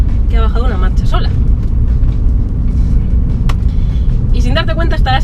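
A 2000 BMW 330i E46 sedan accelerates in fifth gear with a low, steady engine rumble from the cabin, while a person talks over it intermittently.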